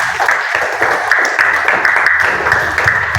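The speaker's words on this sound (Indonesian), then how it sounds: "Boleh apresiasinya untuk kalian, tepuk tangan dulu." A class in an Indonesian school lesson claps at the end of an activity, a steady close round of applause lasting the whole few seconds, with no talk.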